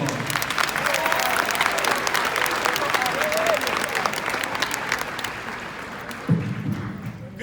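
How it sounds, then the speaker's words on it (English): Audience applause at a middle school graduation ceremony, sustained clapping from a large crowd with scattered cheers, easing slightly before a voice begins near the end. "Bryson Allen a round of applause."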